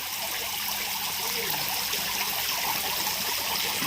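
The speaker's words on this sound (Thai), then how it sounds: "แล้วก็มีน้ำตกไหลย้อย ห้อยย้อยลงมาตรงมุมนู้นนะคะ" Water from a garden fountain and a small waterfall trickling down a corner flows in a steady, even rush with no pauses.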